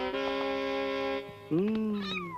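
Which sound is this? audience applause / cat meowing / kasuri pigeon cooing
cat meowing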